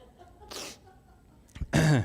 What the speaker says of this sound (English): I'm going to sneeze now because I said I was healthy.